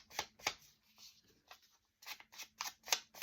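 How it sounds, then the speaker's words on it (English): Scissors snip through paper flower petals with inked edges, giving a run of quick, close crisp cuts with a brief pause midway and no talking. "I am going to be cutting my petals"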